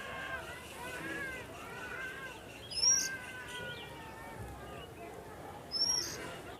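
A bird sings in short bright whistled phrases, twice, somewhat distant over a murmur of background noise and distant voices.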